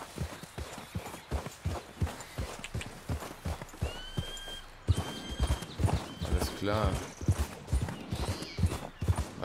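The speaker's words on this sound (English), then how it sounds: "What's that horse?" Horse hooves clip-clop in steady rhythm in the video game Red Dead Redemption 2, close and fairly loud, with a brief whinny and someone talking over the steps.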